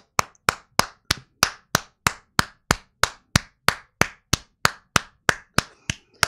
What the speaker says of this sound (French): Je crois entendre des gens applaudir.